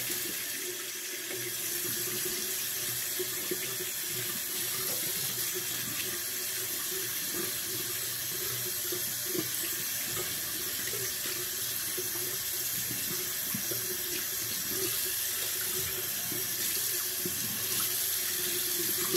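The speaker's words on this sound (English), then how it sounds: "So rinse my brush out and kind of shake it off in the sink" Water running steadily from a bathroom sink tap as a shaving brush used for a straight razor shave is rinsed under it, a constant close hiss throughout with no talking.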